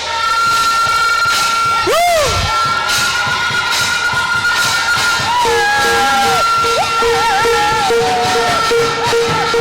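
Church congregation at a wedding blessing erupting in loud, sustained cheers, whoops and joyful shouts, with high ululating cries rising over the crowd noise.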